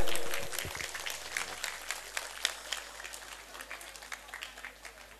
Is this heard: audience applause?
yes